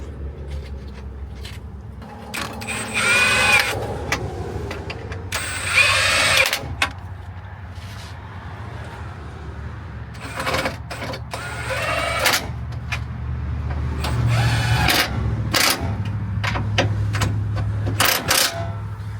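Impact wrench tightening bolts on a rebuilt NV5600 transmission going into a Cummins truck, heard as several short bursts of whirring and hammering over a steady low drone, close and fairly loud.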